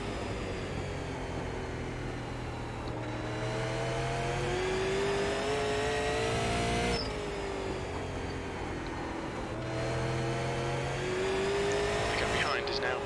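Super late model stock car engine in iRacing drones and revs steadily through the corners, with pitch rising and falling across laps, loud and continuous while a voice talks over it.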